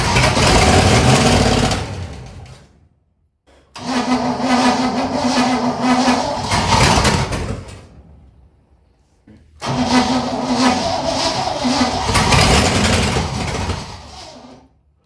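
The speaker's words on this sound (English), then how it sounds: "At this point, we know the car starts, and it actually sounds fairly decent for how long it's been sitting." A 1959 Corvette left sitting for 30 years cranks and fires three times, each run a loud, rough mid-pitched engine roar lasting several seconds, separated by short silences as it shuts off.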